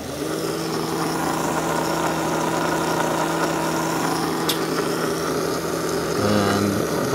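A small DC motor driven through an H-bridge controller hums and whines steadily at close range, its pitch holding level and then shifting near the end as the speed changes.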